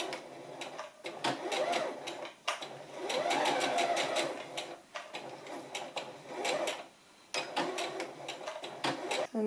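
A sewing machine stitching a dress seam about 1 cm from the edge, running in short bursts of rapid mechanical chatter with pauses and small handling clicks between, close and fairly quiet.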